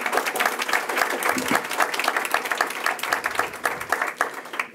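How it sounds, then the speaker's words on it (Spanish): Sustained applause from an audience at a central bank award event in the Dominican Republic, dense clapping continuing steadily at moderate loudness for the whole stretch without any voices. "Fuerte el aplauso para el Departamento de Sistemas de Pago."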